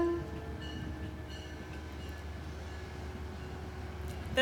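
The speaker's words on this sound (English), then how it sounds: "wait for the train to pass." Train rolling past in Peekskill on a sunny day, a steady distant rumble with a faint sustained tonal hum throughout, no voices over it.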